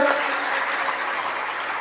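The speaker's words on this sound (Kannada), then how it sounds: "ಜೋರಾಗಿ ಚಪ್ಪಾಳೆ ತಟ್ಟಿ ನೋಡೋಣ" An audience at a devotional Basaveshwar purana gathering claps loudly, a steady wash of many hands sustained throughout at moderate level, with no talking over it.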